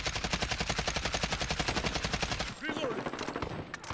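Sustained automatic fire from an AKS-74U in Call of Duty Modern Warfare, a rapid unbroken stream of loud shots for about two and a half seconds before it stops, leaving shell clinks and faint game sounds.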